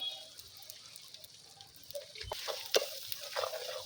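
Spice paste and chicken fry and get stirred in a pan, soft sizzling with scattered scraping and clinks of a utensil, growing busier toward the end.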